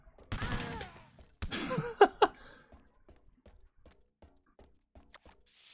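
Gunshots in the video game James Bond 007 Everything or Nothing: two sharp, close shots in quick succession, preceded by loud game sounds and followed by sparse faint clicks and taps.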